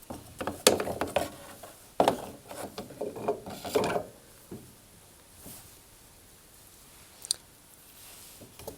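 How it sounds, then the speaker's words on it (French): Fan and washer being refitted inside a Hoover tumble dryer, with a few sharp metallic clicks and ratcheting rattles in the first four seconds, then quieter scattered handling taps and one late click. "Et je vais maintenant remettre le ventilateur"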